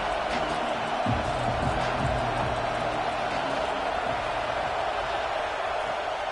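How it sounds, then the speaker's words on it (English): A football stadium crowd roars on a third-down play in a game against UCF, a dense, steady, loud wash of cheering that holds at one level throughout, with no clear voices standing out. "Decibels rising as the crowd gets behind this defense on 3rd down"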